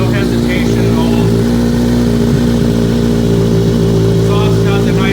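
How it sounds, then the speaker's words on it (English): A 2016 Kawasaki Versys 1000 with a cat delete pipe idles nearby with a steady, deep exhaust rumble throughout, while a person talks over it. "Exhaust has a nice little rumble to it"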